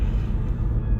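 An Audi S4 with a Stage One tune launches hard, a loud, deep, continuous engine roar with heavy low rumble heard from inside the car, with no talk.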